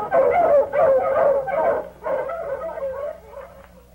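Several dogs bark and yelp in quick, overlapping bursts, loud and close, with whimpering cries between the barks and no talk over them.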